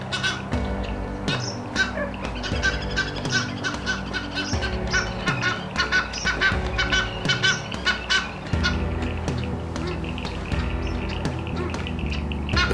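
Egyptian geese fighting in water, honking and gobbling loudly in rapid repeated bursts, close and continuous with splashing underneath.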